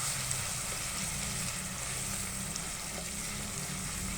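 Chopped onion frying in a pan, a steady dense sizzle with soft crackles, close and even throughout with no talking.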